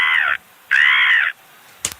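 A person imitates a seagull squawk in a squawking competition: two loud, nasal, drawn-out cries, the second longer, followed by a short sharp click.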